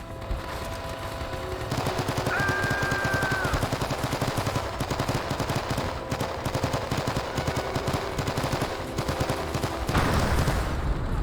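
Sustained automatic fire from an RPD machine gun in the Men of Valor game, a dense rapid rattle of shots running almost continuously for about nine seconds over battle noise, with a brief tone partway through.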